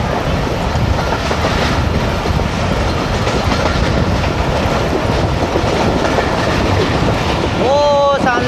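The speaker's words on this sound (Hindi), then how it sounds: "बट जाफर एक्सप्रेस के साथ जर्नी करने का अपना ही मज़ा है। 40 डाउन जाफर एक्सप्रेस।" The Jaffar Express passenger train rolls past on a railway line in Pakistan, close and loud, with a steady rumble and rhythmic wheel clatter throughout and a brief high metallic squeal near the end.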